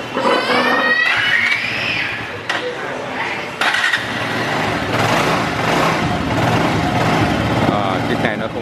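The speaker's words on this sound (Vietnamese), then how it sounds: "Đấy, sẽ nổ máy cho anh em nghe thử nha." Used Bajaj Avenger 220cc motorcycle cranked and started, then settling into a steady, fairly quiet idle, with someone talking over it throughout.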